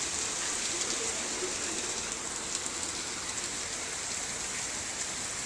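Heavy rain pours steadily and loudly, a dense, even hiss of drops hitting surfaces with no pauses or other sounds.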